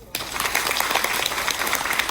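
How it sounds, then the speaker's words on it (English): A group bursts into applause after a short quiet moment, and dense, sustained clapping carries on at an even level to the end. "let's clap."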